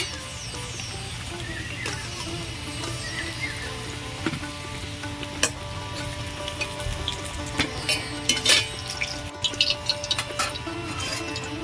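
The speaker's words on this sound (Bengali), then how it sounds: "মাছ ভাজা ওই তেলের মধ্যে" Steady frying sizzle with scattered crackles and spits, close up, continuing throughout with a few sharper pops toward the end.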